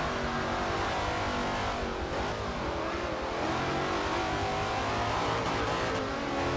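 A Cobra with a 7.0-litre V8 in Forza Motorsport 7 roars continuously near its rev limiter, with a steady loud drone and slight pitch wavers throughout.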